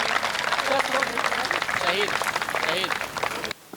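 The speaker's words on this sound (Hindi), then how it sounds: "जोरदार जोरदार तालियां" Audience applause at a Hindi poetry recital, a dense burst of clapping with crowd voices and laughter mixed in that cuts off abruptly near the end.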